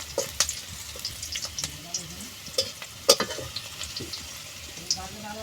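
Onions frying in a pan, now reddened, give a steady soft sizzle with scattered crackles and a few sharper pops, close and fairly quiet, with no talking.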